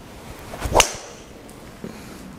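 Callaway Mavrik driver striking a golf ball: one sharp, loud crack of impact, followed by faint outdoor ambience and a small later tap.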